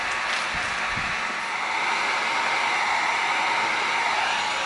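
A heat gun blowing steadily while shaping EVA foam for a prop, a loud continuous hairdryer-like whooshing roar with a few faint clicks at the start, no talk.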